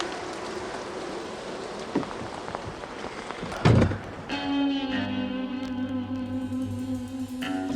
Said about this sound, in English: Now outside is raining terribly.